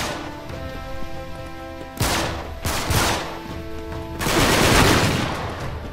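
Gunfire in the video game Uncharted 3: Drake's Deception comes in loud bursts, a sharp volley followed by several more blasts that build into a long, sustained roar near the end.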